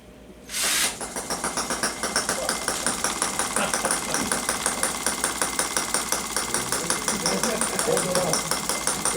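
A tiny model engine fires up sharply and runs at a steady rapid rhythm, its little working muffler shaping a close, buzzy putter that continues throughout with a faint background of voices.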